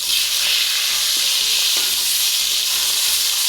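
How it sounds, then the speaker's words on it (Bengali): Spiced fish sizzles steadily in hot oil in a pan, a loud, continuous frying hiss with faint crackles, close and uninterrupted, with no talking. "তো আমি এখন মাখায় গরম তেলের মধ্যে মাছটা দিয়ে দিলাম"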